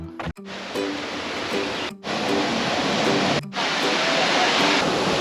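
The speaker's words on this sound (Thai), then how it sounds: "ตอนนี้ผมก็อยู่ที่ น้ำตกเจ็ดสาวน้อยนะฮะ" Jed Sao Noi waterfall in Thailand, a loud, steady broadband rush of falling water filling the whole clip, briefly cut by a few short dropouts.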